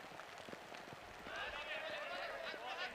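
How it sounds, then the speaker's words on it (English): Heavy rain pours down on a cricket ground at Krefeld, Germany, a steady wash of hiss that grows louder partway through, with a commentator's voice running over it. "The rain is pretty heavy here now."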